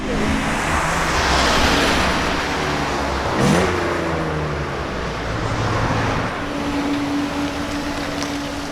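A rebuilt car's engine runs on a dyno, a loud steady mechanical roar with a rising rev sweep partway through, then settling into a sustained drone with a clear tonal whine.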